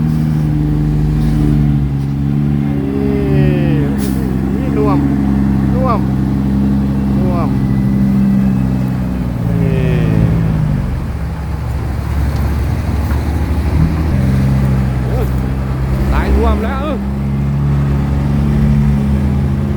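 A modified car's engine revs hard and loud under acceleration, its rising and falling harmonics sweeping through repeated gear pulls against steady roadway noise, with someone speaking over it throughout.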